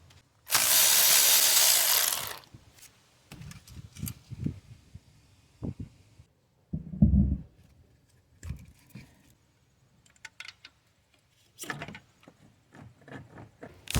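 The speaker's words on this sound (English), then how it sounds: "right now I'm gonna be taking this 10mm bolt off." Ratchet working a 10mm bolt on a Toyota 3.5L V6 engine during a water pump job, heard as short clicking bursts and mechanical clatter at close range, with a loud hiss of noise early on and no talking.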